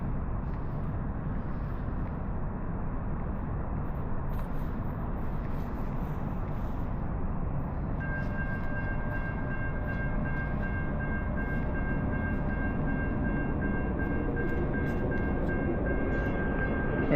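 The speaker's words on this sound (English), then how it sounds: "There's a train." Passing train near Burnaby Lake, a steady rumble of rolling wagons with a sustained horn tone sounding partway through, moderately close and continuous.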